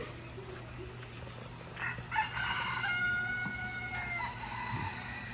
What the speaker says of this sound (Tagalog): Tingog sa manok.